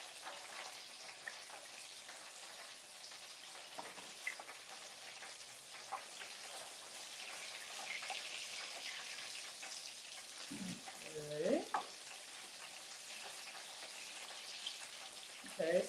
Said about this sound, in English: We're frying this at 375.